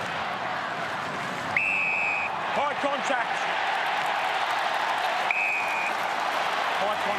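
Stadium crowd roaring for St Kilda at an AFL match against Collingwood: a loud, steady wash of cheering beneath a commentator's voice, broken by short, sharp umpire whistle blasts.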